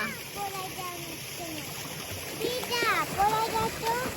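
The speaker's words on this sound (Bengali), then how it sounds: "এই যে আব্দুল্লাহ, তুমি একটু সাঁতার কাটো তো বাবা, বাবা একটু সুইমিং করো না, একটু দেখি না।" A child splashing while swimming in water, outdoors on a family day trip, with intermittent splashes over a steady watery background and people talking nearby.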